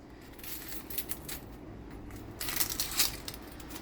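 An onion's dry skin is peeled by hand in a home kitchen while preparing rice, making quiet papery crackles and crinkles that come in brief clusters, louder toward the end, with no voices.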